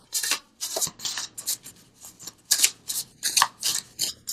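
A deck of visionary oracle cards shuffled for a tarot reading, loud close riffling bursts repeating in a steady rhythm of quick swishes and slaps, no voice.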